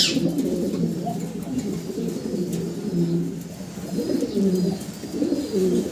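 Pigeons on a farm coo in repeated low throaty phrases, close and clear, with a few soft rustles between calls.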